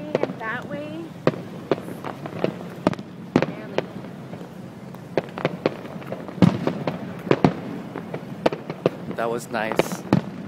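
Fireworks bursting after a Texas versus Boston baseball game, a string of sharp booms and crackles spread across the whole stretch, some loud and some farther off, while people chat nearby throughout.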